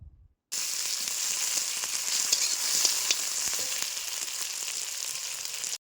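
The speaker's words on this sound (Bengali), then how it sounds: "নুন মেশানোর পর ভালো করে আবারও কষিয়ে নেব।" Onions and 6 to 8 slit green chillies fry in oil for an amudi fish teljhal, a steady hiss that kicks in abruptly after a brief quiet start and continues evenly with faint crackles.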